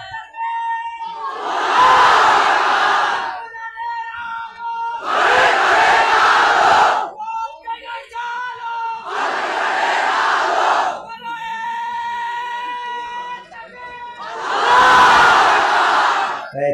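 A crowd shouting the takbir chant in unison at a Bangla Islamic sermon gathering, four loud, massed bursts of voices separated by short pauses and a lone leading voice between them.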